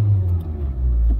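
An unusual Ford Focus idles inside a garage with a steady, deep, close rumble that swells slightly toward the end, and no one speaks.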